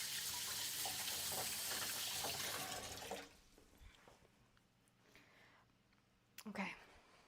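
Kitchen faucet water running loudly while a jalapeno is rinsed, a steady broadband rush for about three seconds that then stops, leaving quiet room tone and a brief clatter near the end.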